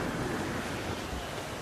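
Stormy sea waves and blustery wind in Assassin's Creed IV: Black Flag during a storm, a steady dense roar of surf and gusts with no talking.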